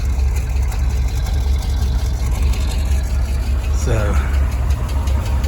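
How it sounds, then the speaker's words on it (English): A 1964 Ford Falcon engine, just revived after 47 years off the road, idles steadily and loudly close by, with a low rumbling pulse throughout and a brief word spoken over it. "Alright, so while I've been picking up tools, I'll let it idle."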